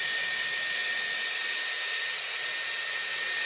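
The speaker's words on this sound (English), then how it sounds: "you're really making sure you've got lots of air through the hair and make sure it's really dry" A Dyson Airwrap blows air through hair, a steady, loud airy whoosh with a high motor whine, continuous and unchanging throughout.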